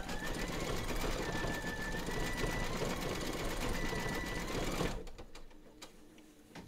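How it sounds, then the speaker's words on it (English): An embroidery sewing machine stitches the outline of Santa's sandal in red thread, a steady fast mechanical whir for about five seconds before stopping abruptly, leaving faint clicks. "Load your matching bobbin and thread colour for the top of his sandals into your machine, and then stitch round number 9"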